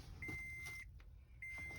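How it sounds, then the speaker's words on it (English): Door-open warning chime in a 2012 Toyota Tacoma, a steady electronic tone sounding in two clear beeps with a short gap between, near and fairly loud over a low engine idle. "I'm going to close the door so we can get rid of the beeping."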